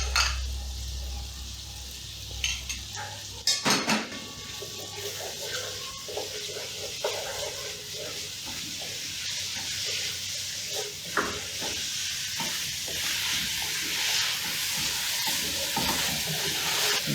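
150 grams of tomato paste sizzling in a hot pan while being stirred, a steady close hiss broken by scraping spoon strokes and a few louder clatters.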